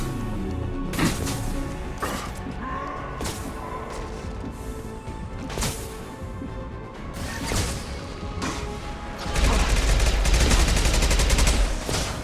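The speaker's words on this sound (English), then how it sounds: "Taking heavy fire!" Heavy, sustained gunfire in the video game Mass Effect 2, with loud overlapping bursts and crashing impacts that thicken into a dense, roaring barrage near the end.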